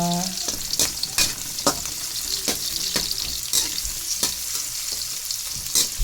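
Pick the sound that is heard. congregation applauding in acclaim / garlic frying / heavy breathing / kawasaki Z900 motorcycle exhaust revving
garlic frying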